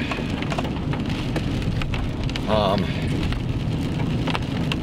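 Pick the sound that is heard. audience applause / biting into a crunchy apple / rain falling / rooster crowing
rain falling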